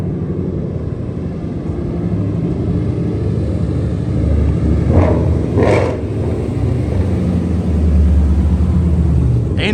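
A car engine idles steadily with a low rumble, a couple of brief brighter bursts rising midway, continuous and fairly close.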